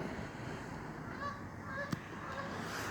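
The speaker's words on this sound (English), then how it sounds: "Look, geese, for God's sakes, flying geese." A few faint geese honk in short calls while flying overhead at night, distant and soft against a steady background hum.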